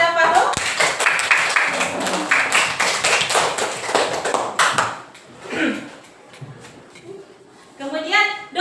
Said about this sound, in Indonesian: Tepuk tangan dulu Pak Fahim dan Farul.